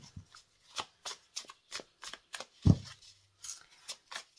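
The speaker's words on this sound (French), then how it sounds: "Hop, on va brasser." Tarot or oracle cards being shuffled by hand during a cartomancy reading, a series of short riffling bursts repeating at a steady rhythm, close and clear with no talking.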